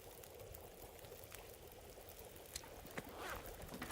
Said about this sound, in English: that's probably gonna boil that water off.